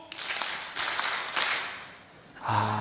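Church congregation clapping along to the 'Daehan Minguk' rhythm, a few loose bursts of handclaps fading out, followed by a brief tonal sound.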